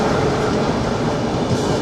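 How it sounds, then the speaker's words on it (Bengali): The Kashi Patna Jan Shatabdi Express passing close by, a dense steady rumble of rail cars and wheels on track, loud and continuous without talk. "চলে যাচ্ছে কাশী পাটনা জনশতাব্দী এক্সপ্রেস।"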